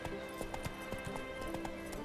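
Hooves of a horse in The Witcher 3: Wild Hunt clip-clop in a steady, rapid rhythm, moderately close against a faint background hum.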